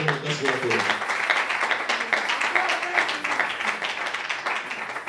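A church congregation claps for the Lord, a brisk, steady patter of many hands mixed with cheering voices throughout.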